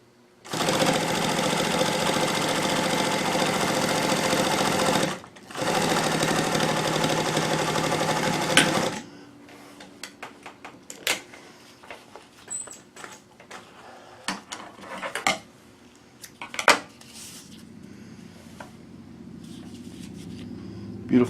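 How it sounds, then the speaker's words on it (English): Bernina Chandler 217 industrial sewing machine straight stitching through two layers of 1000 denier Cordura, running in two steady loud bursts with a brief pause, then stopping and followed by quieter handling clicks and a low hum. "first off we're going to do just a little straight stitching on some 1000 denier Cordura, 2 layers thick"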